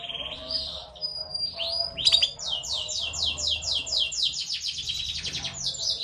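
Canaries singing close by, rapid trilling chirps and fast repeated sweeping notes in a continuous loud song.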